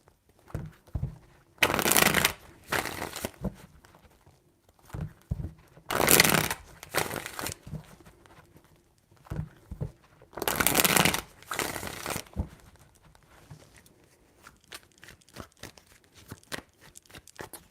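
Tarot cards being shuffled in several separate bursts of riffling and flapping paper, close and crisp, with quieter handling sounds in the pauses between.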